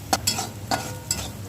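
Chopped onion fries in oil in a pan while a spoon stirs it, a soft steady sizzle broken by several brief scraping strokes, close and fairly quiet.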